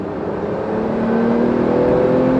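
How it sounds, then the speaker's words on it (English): A Porsche GT2 RS with a PDK gearbox, driven on a rainy day, makes a steady droning hum of engine and exhaust that builds slightly in loudness as it runs, with no voices. "it's not just the noise of the engine and the exhaust, it's got a kind of racing car noise almost"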